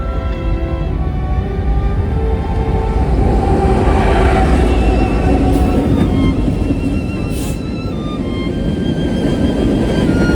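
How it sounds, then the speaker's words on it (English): BNSF Local 9 freight train with a GE Evolution leader and BNSF 1446 trailing second rolls past at night in Wichita, a loud, steady low rumble and roar sustained throughout with no voices. "The last train of the night was BNSF Local 9 with a Jevo leader and BNSF 1446 trailing second"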